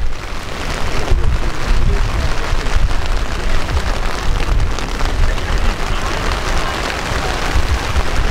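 Steady heavy rain drums on a tent canopy at an outdoor girls' track meet, a dense continuous hiss and patter with low rumbling wind buffeting the microphone throughout.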